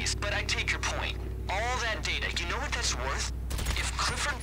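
Gunfire from a heist in the video game GTA Online, scattered shots and bursts coming through under excited voices that talk throughout, with game sounds mixed in.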